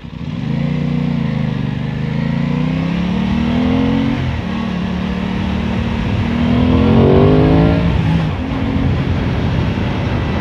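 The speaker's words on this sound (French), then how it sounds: "quel moteur, quel bruit, quelle sonorité" A motorcycle engine, an Aprilia Tuono 660 roadster, rumbles steadily, its pitch climbing and falling through several rev-ups, with a louder acceleration surge near the end.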